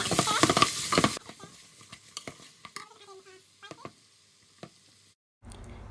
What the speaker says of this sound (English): I'm adding 3 large onions into the pan, and then I will be adding my salt